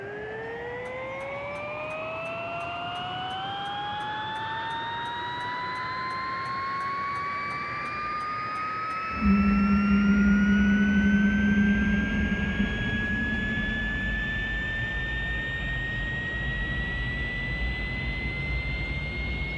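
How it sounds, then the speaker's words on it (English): Simulated Astazou turboshaft of an SA 315B Lama helicopter in X-Plane 12 spooling up from idle, a rising whine climbing steadily over about twenty seconds, with a low rumble and a brief loud tone kicking in midway as ignition catches. "the reworked sound of the Astazoo engine starting up"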